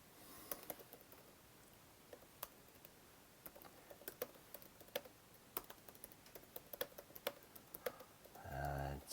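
Keys on a computer keyboard clatter in an uneven run of soft taps while a message is typed, close but quiet over a faint hiss, ending with a brief low rumble.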